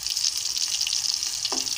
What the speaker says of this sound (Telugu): పచ్చిమిరపకాయలు ఇలా వేగితే చాలు